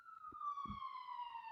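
An emergency siren outside, a steady wailing tone with a slowly falling pitch, fairly faint and distant behind a room, with a few soft knocks nearby.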